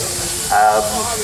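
Miniature steam engine at a steam rally, letting off a short hiss of steam that swells for a moment over steady background noise.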